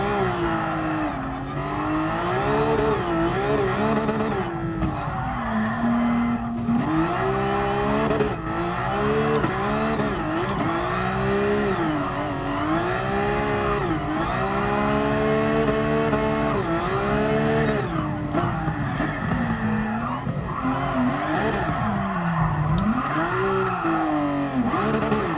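Race car drifting around Red Bull Ring in Gran Turismo Sport, with a loud continuous engine note rising and falling through revs and gear changes and tyres squealing throughout.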